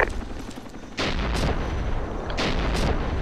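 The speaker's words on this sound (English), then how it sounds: "Be advised, that's friendly mortars." Friendly mortar fire in the video game Arma 2 during a combat training session: a few loud, booming impacts with echoing tails land about a second apart over steady background rumble, with no talking.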